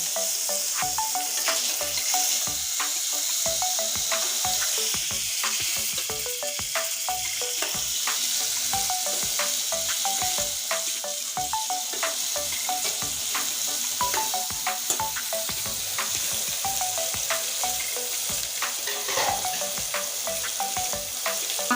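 Pieces of pointed gourd (potol) frying in oil, a bright, steady crackling sizzle close up, running unbroken with rapid spitting pops throughout.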